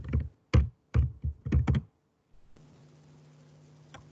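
Six or so close, distinct taps on a computer keyboard as a new folder's name is typed, a quick irregular run of keystrokes followed by a quiet low electronic hum with one faint extra click.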